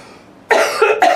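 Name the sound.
coughing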